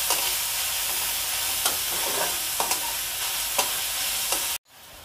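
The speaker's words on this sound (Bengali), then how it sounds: "পেঁয়াজ কলি আর রসুনটা দেওয়া হয়ে গেছে, এবার এইটাকে একটু ভালো করে ভেজে নেওয়া হবে।" Spring onion and garlic frying in a pan, a loud steady hiss of hot oil with light spatula scrapes and taps at intervals, close up, cutting off abruptly near the end.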